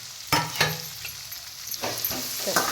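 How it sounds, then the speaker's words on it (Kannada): Chopped onions frying in oil in a home kitchen pan, a steady soft sizzle broken by several sharp scraping stirs, close and alone with no talk. "ಈಗ ಇದನ್ನು ಉಳ್ಳಾಗಡ್ಡೆನ ಇದ್ರೊಳಗೆ ಹಾಕಿ ಫ್ರೈ ಮಾಡ್ಕೊಂಬಿಡೋಣ ರೀ"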